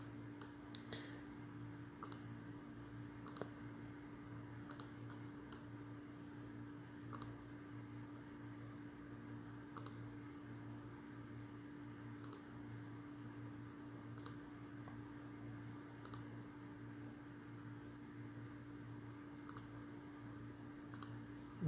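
Mouse clicks while working in Revit software on a computer, sharp scattered clicks at irregular intervals over a steady low electrical hum.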